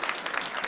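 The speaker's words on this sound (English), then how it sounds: "a round of applause for the youngsters" Audience applause at a community gathering in Wantirna, Victoria, a steady patter of many hands clapping throughout, fairly close and even in loudness with no talk over it.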